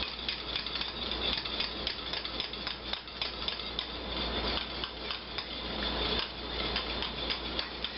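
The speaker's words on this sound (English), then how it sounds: "I'm just going to start adding in my cheese, whisking it in." A whisk scrapes and taps rhythmically in a pan as cheese is stirred into a milk-based cheese sauce for broccoli, a steady close scratching with light metallic clicks and no talking.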